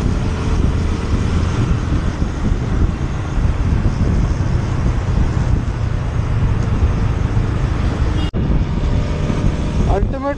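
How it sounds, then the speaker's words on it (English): Wind blasts hard against a motorcycle rider at speed, a steady loud roar of buffeting air over the microphone that runs without a break, with one brief dropout near the end. "Ultimate wind blast protection at its best."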